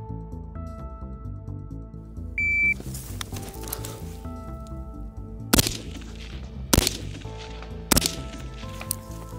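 Rifle shots from 11.5-inch piston uppers, a Sig MCX Spear LT and an LMT MRP, fired at 170 yards on an outdoor range: three sharp, loud cracks spaced about a second apart after a stretch of quieter background clatter.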